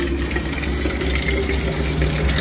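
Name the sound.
filling a water bottle from a tap at a petrol pump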